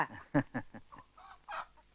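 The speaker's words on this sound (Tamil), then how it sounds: "என்ன கோழியெல்லாம் வாங்கிட்டு வந்திருக்காரு?" Chickens cluck in a short burst of quick, close calls with low background noise.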